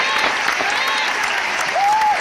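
Live audience applauding through a hip-hop show, dense steady clapping throughout with a few cheers and whoops mixed in.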